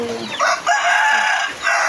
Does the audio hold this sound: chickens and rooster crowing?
yes